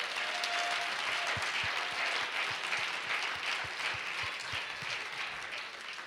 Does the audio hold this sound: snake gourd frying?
no